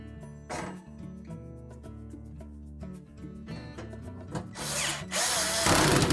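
A power drill drives retaining screws into the temperature sensor mounting bracket of a GE oven, a steady whirring pitch rising into louder bursts near the end, close and alone.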